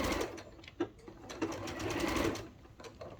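Sewing machine stitching fabric slowly around a curve while sewing a reusable bag, a close steady mechanical whirr with rhythmic needle chatter, briefly pausing and restarting as the fabric is turned.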